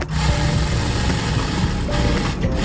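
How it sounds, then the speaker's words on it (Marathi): Sewing machine stitching a straight seam on a blouse, a close, loud, continuous mechanical whirr with a steady motor hum, no pauses and no voices. "खालून स्लीवचा जो दंडघेरचा जो दंडघेर आहे इथपर्यंत सरळ शिलाई मारायची."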